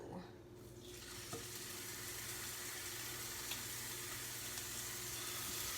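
Lollipop lamb chops for a garlic and rosemary dish hit a hot pan and sizzle loudly; the steady, dense frying hiss swells right after they land and continues unbroken, with no talking.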